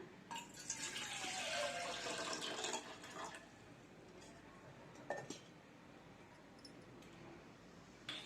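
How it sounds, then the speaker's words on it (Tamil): Water pours from a small vessel into a metal pot for a few seconds with a rushing, splashing fill, followed by quieter clinks and small handling sounds nearby. "ஒரு சொம்பு தண்ணி விட்டுக்கலாம்."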